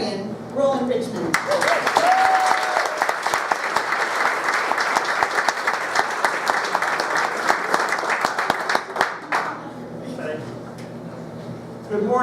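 Dense, sustained applause from a crowd at a high school graduation welcoming HSU President Rollin Richmond, steady clapping for about eight seconds with a brief voice at the start before it fades out.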